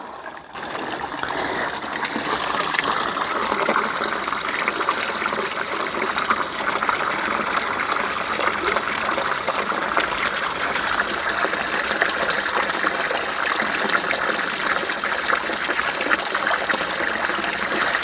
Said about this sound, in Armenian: Այս ջրի ձայնը այնքան շատ եմ սիրում